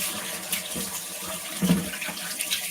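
Fish cake ingredients rinsed under a running kitchen tap, a steady close splash of water with a few brief louder spurts, no voices.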